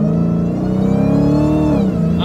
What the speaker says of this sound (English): I'm not even floored, I'm barely throttling. Just listen to her.